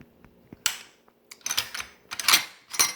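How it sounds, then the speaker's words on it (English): Metallic clacks and scrapes as the bolt is removed from a Mitchell Arms RPK-47 rifle rechambered in 5.56x45, several sharp close clicks followed by sliding rattles in quick succession. "We'll take the bolt out."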